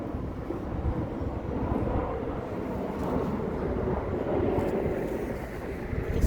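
A passenger airplane descending toward landing over Kew Gardens in London gives a steady, broad roar that swells and fades slightly as it passes overhead, with some wind buffeting on the microphone and no talking.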